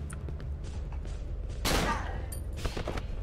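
Glock pistol firing in the horror game Cry of Fear, with one sharp loud shot standing out and a few fainter pops around it over a low rumbling background.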